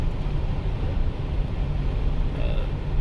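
Wind rushes past a 2005 GMC Yukon 2500 with an 8.1-liter V8 and four-wheel drive cruising at 70 mph, a steady broadband roar with road rumble underneath, close and continuous.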